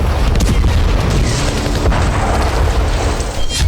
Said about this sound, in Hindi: यूक्रेन में धमाकों का शोर थम नहीं रहा